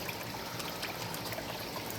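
Water from a pump-fed garden pond creek trickles steadily over stones, a close, continuous babbling stream with no voices.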